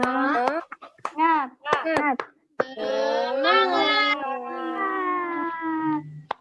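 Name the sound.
children doing tepuk semangat clapping chant in class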